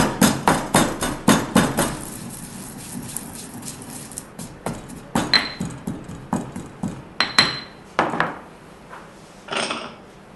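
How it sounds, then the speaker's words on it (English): Poppy seeds crushed in a mortar, a rapid series of sharp, close knocking and clinking strikes, first in quick bursts, then more spaced and uneven, with no talk. "Poppy seeds. And these we crush and will add to our dish later."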